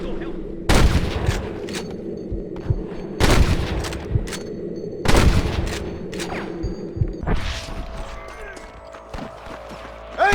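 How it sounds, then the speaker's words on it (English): Gunshots in the Western video game Red Dead Redemption crack out as four loud, widely spaced blasts, each with a ringing, echoing tail over busy background game sound. "I can hear more gunshots."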